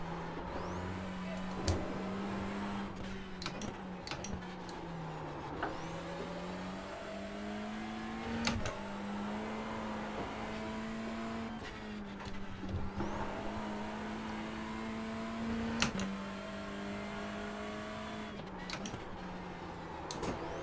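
Touring car engine revving hard during a race at Knockhill, its steady drone rising and falling through gear changes for about twenty seconds, loud and close, with faint commentary underneath.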